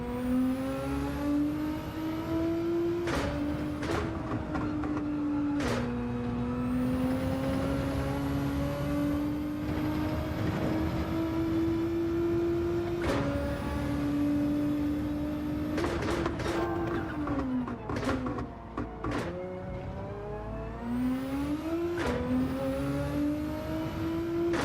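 Ferrari race car engine in Gran Turismo 7, loud and continuous, rising through revs and dropping sharply at each gear shift, with repeated downshifts and a steady high-pitched whine throughout.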